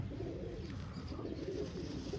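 Pigeons in a Punjabi loft coo softly and steadily, a low murmuring warble from several birds close by with no talk over it.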